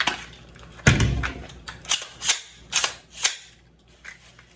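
Several sharp snapping shots from an airsoft IWI Zion 15 rifle fitted with a forward flashlight, laser, red dot sight and magnifier, a heavier first report followed by four quicker cracks at irregular spacing, close by and loud with no talking.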